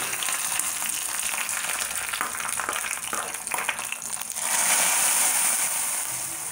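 Hot tempering of onions and curry leaves poured into a Kerala-style fish curry, a steady loud sizzle and crackle throughout that surges louder near the end as the oil hits the pot.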